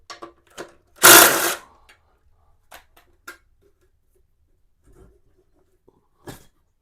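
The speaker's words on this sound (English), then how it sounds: "I'm just going to go ahead and remove this sissy bar. Not much, it's only 2 bolts holding it." Rusty bolts come off the sissy bar of a 2009 Honda Rebel 250 motorcycle: sparse tool clicks and taps around one short, loud ratcheting rasp, otherwise quiet, with no talking.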